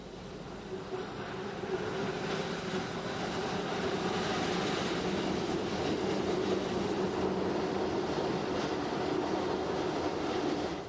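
An Appenzell Railways rack railway train descends a steep gradient of up to 1 in 11 toward St. Gallen, giving a steady, loud rolling rumble with wheel and track noise that continues without a break.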